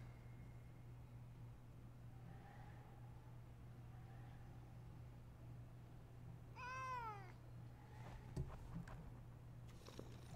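A house cat gives a single short meow against a low steady electrical hum, with soft clicks and small noises around it and faint, quiet background sounds elsewhere.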